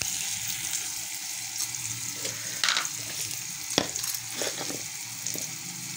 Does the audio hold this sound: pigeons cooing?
no